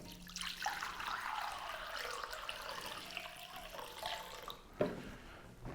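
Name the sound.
water being poured into a floral design base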